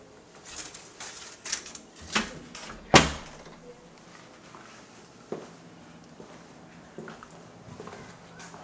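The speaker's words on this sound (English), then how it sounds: "Door closing." A door bangs shut inside a house with a single sharp thud, preceded by a few softer knocks and rattles, all faint against a quiet room.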